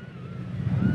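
Wind gusting around a tiny KFPLAN KF603 flying boat plane in flight outdoors, a steady low rumbling buffet that builds slightly louder toward the end, with a faint thin motor whine above.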